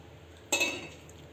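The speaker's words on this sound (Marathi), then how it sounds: "त्याच्यावर झाकण लावून घ्या" A metal lid set onto an idli steamer pot makes one sharp clang that rings briefly and fades, alone in a quiet kitchen.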